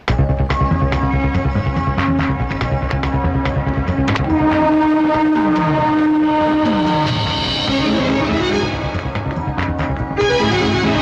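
A train at a railway station rumbles loudly, with tonal horn-like blasts and sliding pitches sounding over a continuous mechanical drone that briefly dips near the end.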